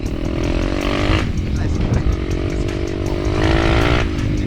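A Geon X-Ride 190 pit bike engine drones while riding home, a loud close buzzing note that rises and falls as the throttle changes, with a voice talking over it.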